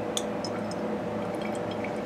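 Liquid poured into a glow stick chemical mixture to make blue, a soft, close trickling with small splashy drips, faint and brief, no talk.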